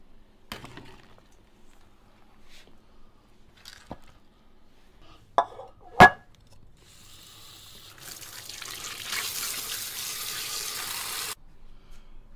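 Pig trotters being rinsed under a running kitchen tap after boiling: a few sharp knocks and splashes, then a steady rush of faucet water pouring and splattering for several seconds, fairly faint and close.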